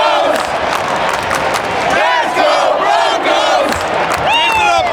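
A large crowd in New Orleans during Super Bowl festivities cheers and whoops continuously, loud and dense, with shouts rising above the roar throughout.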